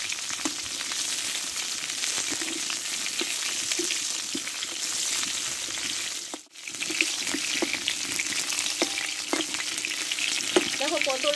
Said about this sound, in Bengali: একটু টুকটুক করে পটলটা একটু ভালো করে কষে নেব